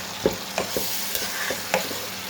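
Onion paste fries in a pan with a continuous close sizzle, punctuated by several sharp scraping stirs at uneven intervals, with no talking.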